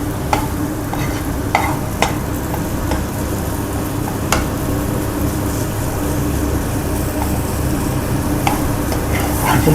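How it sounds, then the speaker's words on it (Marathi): Raw mango chutney sautéing in oil in a pan, a steady close sizzle with a spoon stirring and occasional sharp scrapes against the pan throughout. "आणि हे आपण आता छान असं परतून घेऊया."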